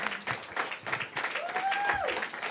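Audience hand clapping in a hall, steady and fairly dense through the whole stretch, with a faint voice or tone gliding partway through.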